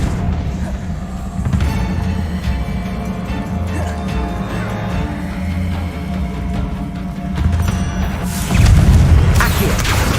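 Confringo fire spell explosions and magical combat in the Hogwarts Legacy video game, a dense, continuous rumble of blasts and impacts with a louder, harsher burst near the end.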